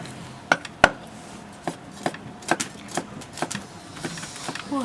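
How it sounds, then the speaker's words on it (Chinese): Blanched Chinese toon sprouts are chopped with a knife on a cutting board: a dozen or so sharp, uneven close knocks spread over a few seconds, with low background noise. "再给它切碎碎"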